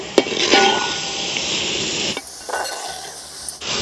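Chicken pieces being stirred into ground masala in a pan: soft scraping and wet stirring with a couple of sharp utensil clinks, close up, then a quieter stretch with faint sizzle; no talk.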